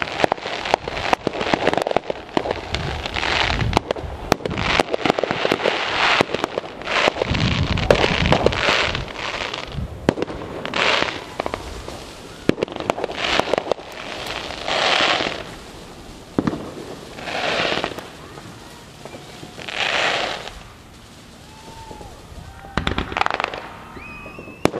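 Fourth of July fireworks going off outdoors, a long run of crackling bursts and sharp pops, some dense and rapid, others spaced out with softer rumbling booms between, at a moderate distance.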